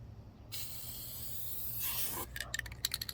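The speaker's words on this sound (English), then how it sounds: "we're just gonna kind of spray over the top like that" A Dupli-Color vinyl and fabric coating aerosol spray can hisses in one steady, close burst lasting under two seconds, followed by a few rattling clicks.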